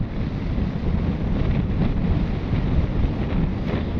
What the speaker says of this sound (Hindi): हवा चल रहा है, उड़ जाएगा, खड़ा नहीं होना